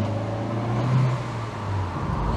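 Renault Avantime engine running with a steady low hum, swelling slightly as the throttle opens; the steady drone stays even throughout with no one talking.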